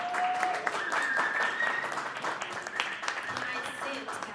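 Applause from an audience for a hip hop performer at an in-session music show, a moderate wash of clapping with scattered cheers that rises and lingers over a few seconds.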